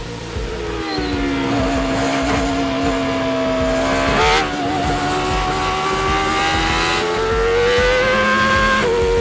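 Mazda car fitted with a Toyota 2JZ engine, droning loudly with sustained rising revs and a brief surge midway, close and continuous with no voices.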